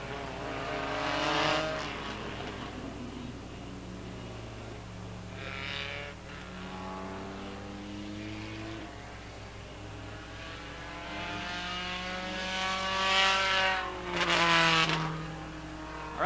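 Roadrunner division race cars run a qualifier at Wiscasset Speedway in 2025, their engines rising and falling as they lap the oval, heard from a distance with several passes and no talk.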